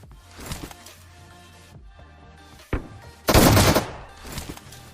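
M416 rifle gunfire in PUBG, a few separate shots followed by a short, loud burst of rapid automatic fire, close and with no talking.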